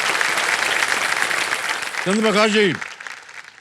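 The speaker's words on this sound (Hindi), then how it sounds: "तालियां बज जाए इनके लिए" A studio audience on the quiz show Kaun Banega Crorepati claps in loud, dense applause for about two seconds, then a voice speaks as the clapping fades away.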